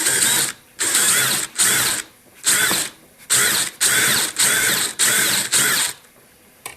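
A power drill with an old, worn bit whines in eight steady bursts, each about half a second long, separated by short pauses, loud and close, during restoration work on a Chevrolet.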